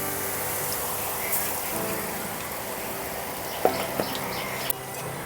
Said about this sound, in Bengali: আবারও ভেজে দেখিয়ে দিচ্ছি। গ্যাসের ফ্লেমটা কিন্তু হাই রেখে করতে হবে বুঁদিয়াগুলো।